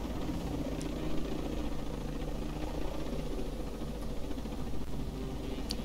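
A helicopter in the video game Ghost Recon Breakpoint flies with a steady, droning rotor and engine rumble that holds at an even level throughout, without any talk over it.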